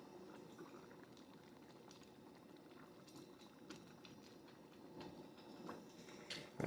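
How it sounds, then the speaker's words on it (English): A pot of liquid simmers on a camp stove outdoors in the wind, giving a soft, steady bubbling and gentle gurgle that sounds faint and close, with a small knock near the end. "Kind of want to get it to a simmer so it's not rapid boiling."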